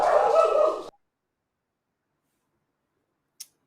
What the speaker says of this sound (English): That was a dog of some kind.